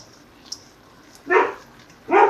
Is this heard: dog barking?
yes